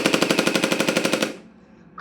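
A toy blaster gun fires a rapid burst of about a dozen evenly spaced, loud clattering shots like a machine gun, then cuts off into near silence before a brief noise at the end.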